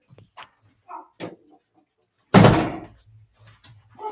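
An interior house door is shut with a single loud slam at mid-clip, the thud trailing off briefly, while a dog barks faintly around it in a quiet room.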